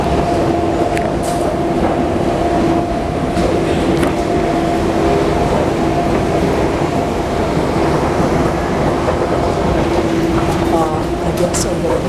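Paris Metro Line 14 train running steadily, a continuous loud rumble with tonal motor whine throughout, with voices heard over it.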